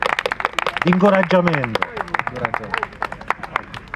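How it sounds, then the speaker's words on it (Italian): Scattered, uneven claps from an audience at an evening festival debate talk in Narni, Italy, sounding under a man's nearby speech and fading to sparse taps. "Un applauso, grazie."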